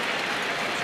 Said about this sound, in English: Standing ovation here at Yankee Stadium for the 26-year-old right-hander.